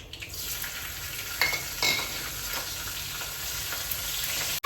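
Potatoes hit hot oil already holding asafoetida, turmeric and green chilies, giving a loud, steady sizzle and crackle with a couple of stirring scrapes in the pan.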